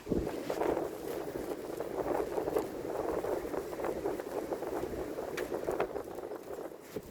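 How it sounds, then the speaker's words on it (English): Gusty wind buffets the microphone with a constant rough rushing, rising and falling in strength, no voices present. "It is a really windy day today."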